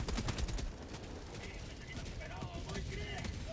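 A Gatling sentry in Helldivers 2 fires continuously, rapid rattling bursts mixed with game mechanisms and explosions, moderately distant under a player's voice.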